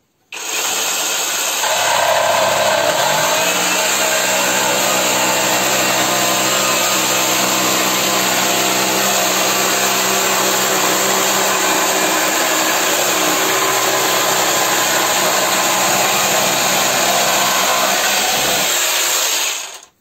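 Parkside PSSPA 20-Li A1 cordless jigsaw cuts wood with the blade tilted to 22.5 degrees, a loud steady whining buzz that starts, holds continuously for about sixteen seconds and then stops, close by with no talk.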